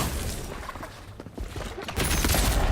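Gunfire in the fantasy video game Avowed rings out as a quick burst of sharp shots and impacts, loud and close, followed by a heavier blast near the end.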